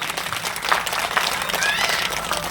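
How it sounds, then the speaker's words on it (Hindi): Devotees seated at a Ram Katha gathering held with a Durga Puja committee clap loudly together, giving a dense, steady roar of applause from a large crowd, with a voice faintly heard under it. "आप सभी लोग जितने भक्त यहाँ बैठे हैं जोर से ताली बजाएं"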